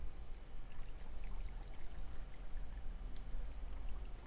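Running water in the I am Bread video game, a soft, steady pouring stream with faint trickling texture, continuous and fairly quiet, no voices.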